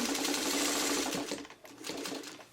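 A sewing machine stitches a quilt block seam for a Shoofly pattern, running as a steady, close, fast mechanical whir that eases off partway through, with no talking.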